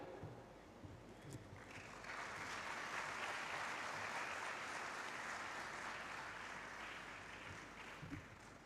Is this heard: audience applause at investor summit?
yes